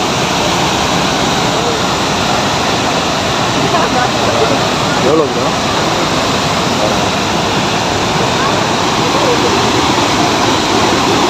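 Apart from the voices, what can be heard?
Pykara Falls waterfall rushing water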